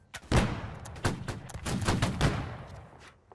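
A ragged series of musket shots in Holdfast: Nations at War, with several loud cracks spread over a few seconds, some near and some farther off, trailing into a fading echo.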